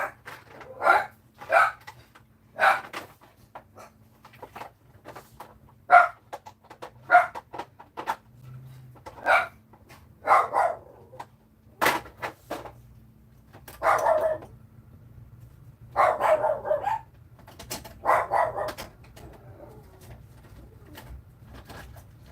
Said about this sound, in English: nothing says love like dog barks